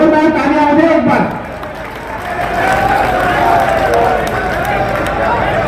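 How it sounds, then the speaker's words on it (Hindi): A stadium crowd at a youth dialogue event with a chief minister applauds and cheers in a broad, sustained wash of clapping and murmur, while an amplified voice speaks over it near the start. "जोरदार तालियां हो जाए एक बार।"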